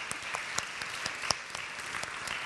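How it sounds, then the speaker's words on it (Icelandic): A church congregation at a Sunday service gives a couple of singers a round of applause, a continuous spread of many hands clapping at moderate distance with a few sharper claps near the mic. "Gefum þeim bara aftur gott klapp."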